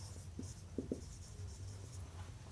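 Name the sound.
writing equations by hand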